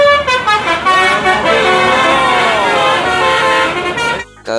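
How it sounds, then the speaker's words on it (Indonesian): A loud, close toy bus horn plays a bright multi-tone telolet melody, notes sliding and overlapping, before cutting off abruptly near the end. "di sini ada bus telolet."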